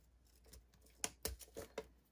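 Scissors snipping twine tied around a packaged leather notebook cover, a few quiet, close, sharp clicks and cuts in quick succession.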